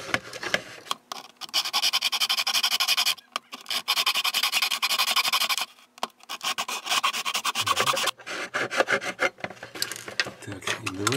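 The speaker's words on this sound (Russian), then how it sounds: "Специальный напильник для пластмасс. И немножко" A special hand file for plastics smoothing a plastic part on a GVDA GD318 soldering station: repeated rasping scrape strokes in steady bursts, close and bright, with short pauses between runs.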